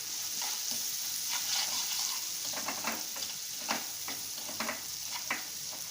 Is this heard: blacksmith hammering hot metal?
no